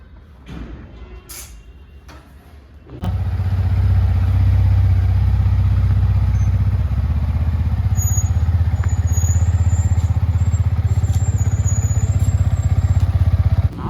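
After a few seconds of quiet rustling, a motorcycle ridden on a road in Karnataka starts up into a loud, close, steady engine drone that holds without a break.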